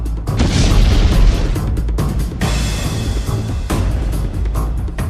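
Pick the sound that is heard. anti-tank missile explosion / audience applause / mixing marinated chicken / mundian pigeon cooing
anti-tank missile explosion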